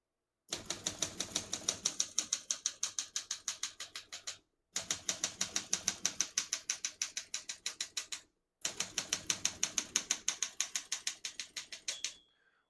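Rapid, crisp key strikes on a 1970 Olympia SM9 portable typewriter, close and clear, in three even bursts of steady clacking separated by short pauses, with a light ding at the end.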